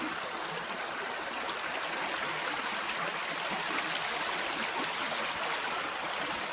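Creek water flows and trickles steadily nearby, a constant broadband rush with light babbling texture and no voices.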